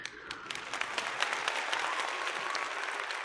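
Studio crowd applause effect: a steady wash of many hands clapping, moderately close and even, rising slightly then holding without any voices on top.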